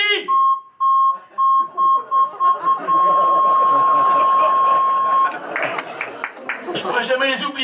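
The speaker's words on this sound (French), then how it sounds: "C'est le même bip que le bip du recul sur ma voiture." A steady electronic beep tone, first in short repeated pulses and then held continuously, with muffled talk and rustling underneath before it ends into noise.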